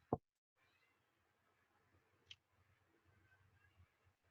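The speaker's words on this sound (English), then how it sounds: "There's a cat meowing." A single short cat meow sounds once near the start, fairly clear against a quiet room, followed by faint clicks and low background rustling.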